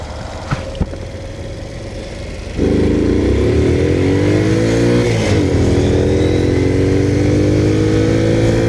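A Honda Cub motorcycle racing on a green lane, the engine idling at first, then jumping to a loud, steady high-revving drone that rises in pitch as it accelerates close by.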